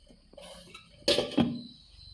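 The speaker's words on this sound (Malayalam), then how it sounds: "നമുക്കൊന്ന് മൂടി വെക്കാം." A lid set down over a pot in a home kitchen during unniyappam making gives two sharp metallic clatters close by, a short knock followed by a second contact with a brief ringing tail, all alone.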